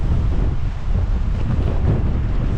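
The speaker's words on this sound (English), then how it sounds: "you can't hear me, can you? Too windy." Loud, continuous wind buffeting the microphone on a walk on the South Downs, a steady low rumble filling the whole clip with no voices.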